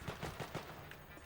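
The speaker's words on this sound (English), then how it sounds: "somebody's shooting something." Gunfire in a video game, a quick burst of four soft rapid shots followed by a fainter trailing pop, distant and quiet with no voices.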